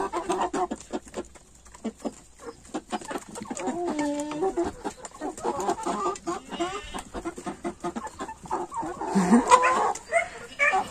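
Two Marans roosters crow among clucking fowl, with a dog barking nearby; the calls come in short, close bursts over a busy farmyard background.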